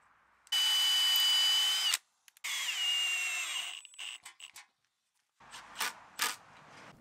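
Two sustained whirring bursts of a power drill driving decking screws into timber for a garden log store, the second trailing off, followed by a few short clunks and taps.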